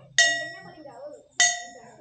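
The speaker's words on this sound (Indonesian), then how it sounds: "Nah, kita bunyiin bel." A school bell at a remote school in Riau rings out with two sharp metallic strikes about a second apart, each leaving a ringing tone that decays.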